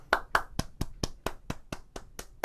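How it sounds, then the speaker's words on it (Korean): Hands clap in welcome for a pastor at an online church's discipleship-training orientation, about ten steady, evenly spaced claps, close and crisp, with no talking over them. "환영의 축복의 마음을 담아서 박수로"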